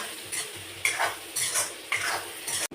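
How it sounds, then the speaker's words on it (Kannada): A utensil stirs rice in a pan with soy sauce and tomato ketchup, making four or five close, rhythmic scraping strokes with a light sizzle underneath and no voices. "ಸೋಯಾ ಸಾಸ್ ಹಾಕೊಂಡು ಟೊಮೊಟೊ ಕೆಚಪ್ ಎಲ್ಲ ಮಿಕ್ಸ್ ಮಾಡ್ಕೊಂಡು"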